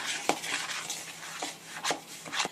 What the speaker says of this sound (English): So we're just going to mix these all together well.